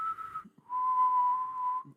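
A person whistles two sustained notes into a podcast microphone, a short higher tone and then a longer steady one, close and clear with no talking.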